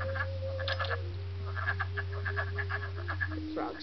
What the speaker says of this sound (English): The frogs sound like birds.